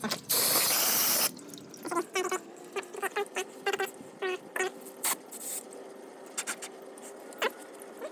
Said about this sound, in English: I just got some O'Reilly brake cleaner, and basically it's just a quick dry.